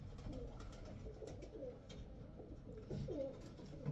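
Soft, low cooing from a pigeon repeats a few times, close by but quiet, with faint rustling in the background.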